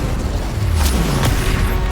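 Fire spell blasts in the Hogwarts Legacy game, a dense loud roar of combat effects with a few sharp whooshing bursts cutting through, continuous and close with no talking.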